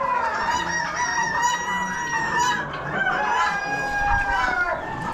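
Small roosters in a crowded poultry section of an Amish auction crow in overlapping, drawn-out calls, with hens clucking around them, close and loud throughout.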